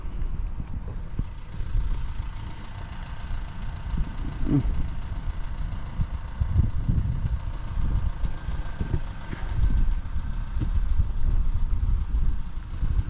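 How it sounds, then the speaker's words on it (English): Strong, gusty wind from Storm Gerrit along the NC-500 route, a continuous low roar and buffeting rumble that swells and eases, with no speech over it. "The wind's picking up."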